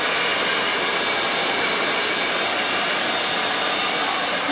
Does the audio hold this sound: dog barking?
no